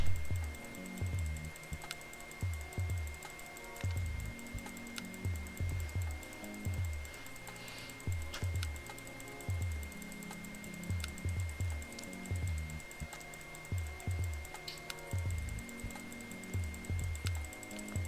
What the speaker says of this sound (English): My fingers are numb for just spamming E and clicking.